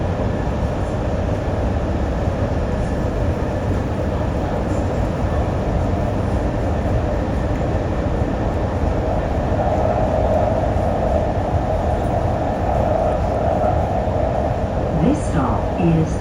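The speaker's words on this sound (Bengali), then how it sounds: "মেট্রো থেকে নামলাম" A Sydney metro train rumbles steadily along the track with a constant loud interior roar, a brief squeal near the end as it slows into Waterloo station.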